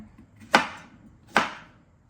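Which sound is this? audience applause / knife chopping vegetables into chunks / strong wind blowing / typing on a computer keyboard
knife chopping vegetables into chunks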